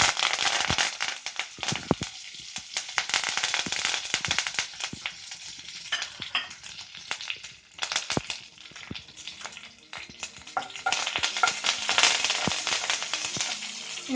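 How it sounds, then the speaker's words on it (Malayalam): Mustard seeds splutter in hot coconut oil for a Kerala-style beetroot pickle, a dense run of sharp, irregular pops and crackles that thins briefly midway and then picks up again. "കടുക് പൊട്ടാൻ തുടങ്ങിയിട്ടുണ്ട്."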